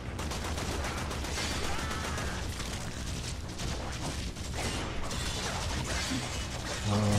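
Heavy melee weapon strikes in the game Warframe, a dense run of loud metallic clanks and crunching impacts with rattling mechanical textures throughout.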